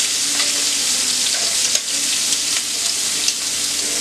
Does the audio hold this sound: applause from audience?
no